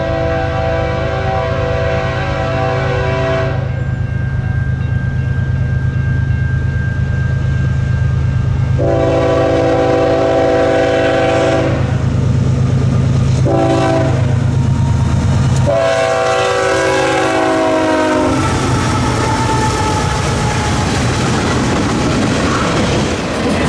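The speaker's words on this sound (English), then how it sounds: "we did end up getting one more train, which was M380 again, except this time it had BNSF power" BNSF freight train M380, led by a GEVO with a trailing AC44 locomotive, passes at a rail junction, sounding repeated long horn blasts over a loud steady rumble and clatter of wheels.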